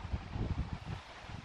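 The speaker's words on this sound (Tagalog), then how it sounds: "grabe ang hangin" Strong typhoon wind in Finland buffets the microphone in a heavy, gusting low rumble that swells and eases, with no voices.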